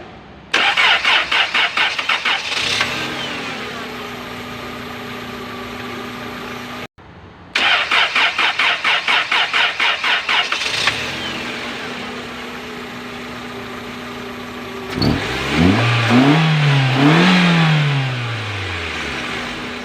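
A Toyota 4A-FE car engine, hard starting when warm, cranks with a rapid rhythmic whirr for a couple of seconds, stops, cranks again at length, then catches and revs up before settling.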